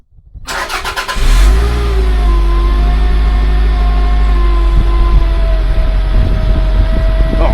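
A Toyota MR2 engine cranks and catches, then settles into a loud, steady idle with a strong low drone and faint whining tones, heard up close during start and stall diagnostics.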